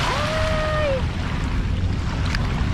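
Sea waves wash onto the Manila Bay shore by the Dolomite beach during the habagat monsoon season, a steady broadband rush mixed with wind, with a brief thin whistling tone early on and no talking.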